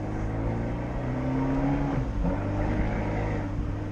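An Abarth 124 Spider's engine drones steadily from inside the car as its back end slides out in a drift, the pitch dipping and then recovering midway; no one speaks.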